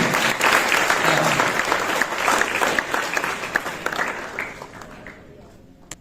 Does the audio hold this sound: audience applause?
yes